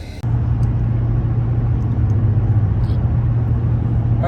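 A car pulling a trailer on a road in the snow on the way to Reno gives a steady, loud low engine and road rumble that holds throughout, with no talk.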